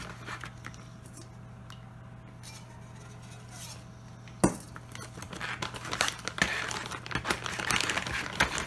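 A spoon scrapes and clinks in a small pot while backpacking mac and cheese with Spam gets stirred. The scraping is quiet and sparse at first, then turns busier and louder, with one sharp knock partway through.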